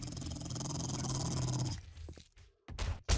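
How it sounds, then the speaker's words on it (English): A dog growls steadily in a video game, a low sustained rumble for a couple of seconds, followed by a few sharp clicks and bursts of game noise. "Ah, there's a dog."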